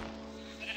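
A Minecraft sheep gives a short, close bleat with a steady, buzzy tone that brightens near the end.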